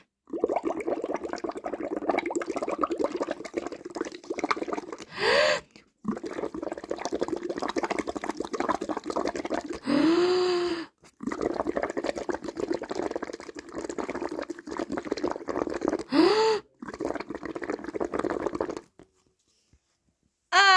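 Bubbling liquid from a children's Halloween kitchen experiment, a steady watery fizzing and gurgling that runs continuously, broken by a few brief pauses and short higher swishes.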